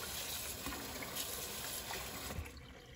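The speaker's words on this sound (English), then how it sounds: "I'm just going to give them a quick rinse off with clean water and then leave them to dry" Clean water runs over carved printing blocks as they are rinsed, a faint, steady trickle and splash with no talking.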